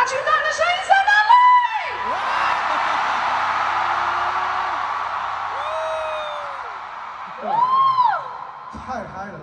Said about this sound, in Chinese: 而且大巨蛋的那个尖叫声是不是还蛮大声的哦